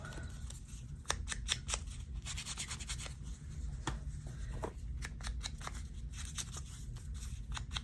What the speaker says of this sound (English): snip off those corners